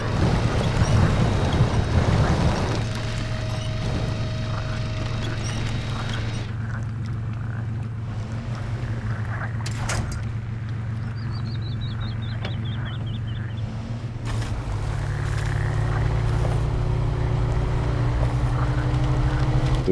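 A heavy truck churns through deep water in SnowRunner, its engine droning low and steady with sloshing water noise around it and no one talking.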